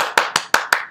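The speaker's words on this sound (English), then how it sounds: "A good hand of applause for Harrison Truman." Five sharp, evenly spaced hand claps from a single nearby person, about one every fifth of a second, clapping for a presenter with no other sound around them.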